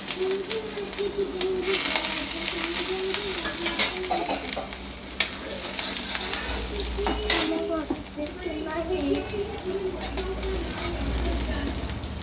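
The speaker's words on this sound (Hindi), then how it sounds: "अब मेरी कढ़ी में तड़का आ गया है" Spices and crushed ginger sizzle in hot oil as a tadka for kadhi, a steady crackling fry with stirring clatter, while voices talk over it and birds call faintly nearby.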